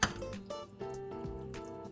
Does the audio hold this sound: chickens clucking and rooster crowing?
no